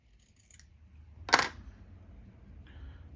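A single crisp snip of scissors trimming fly-tying material for a tan baitfish fly, close and brief, followed by a faint click in an otherwise quiet space.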